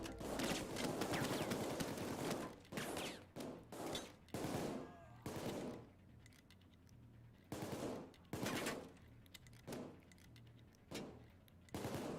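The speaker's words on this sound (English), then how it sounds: "It's like it's just non-stop shooting." Rapid automatic gunfire in Payday 2, coming in several sustained bursts that are separated by short pauses.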